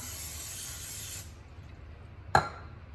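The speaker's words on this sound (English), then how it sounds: "I've already sprayed the pan, but I'm gonna go ahead and spray these as well." Cooking spray hisses from an aerosol can onto mason jar lids set in a pan, a steady close spray for about a second, followed by quiet and a single sharp clack.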